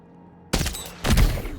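Gunfire in the video game Death Stranding 2: after a silent start, two loud, sharp bursts follow about half a second apart, the second heavier and more booming, with a short tail.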